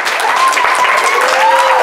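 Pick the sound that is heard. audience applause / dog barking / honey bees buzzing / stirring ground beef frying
audience applause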